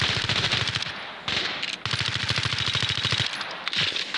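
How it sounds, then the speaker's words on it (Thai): Rapid M16 rifle fire in the mobile shooter Standoff 2 rattles out in loud, close automatic bursts, several long strings of shots separated by brief pauses. "มาเสียงปืน M16 อ่ะนี่เกมนี ่สำหรับตัวกูนะ"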